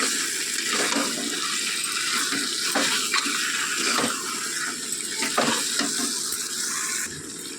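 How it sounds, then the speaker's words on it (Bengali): Chicken and spices for curry are sautéed in a pan, with a continuous hiss of sizzling frying and repeated scraping stir strokes of a spatula at an uneven rhythm, close up, and no talk. "তো দেখুন, আমি চিকেনটাকে ভালোভাবে কষে নিচ্ছি।"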